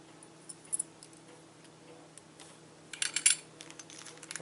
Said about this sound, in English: Some really pretty decorative keys.